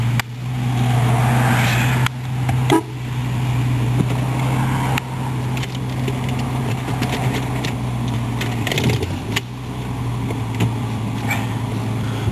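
An older car with about 58,000 miles and a stuck parking brake cranks over, starts and settles into a steady low-pitched idle, loud and close, with brief revs and dips along the way.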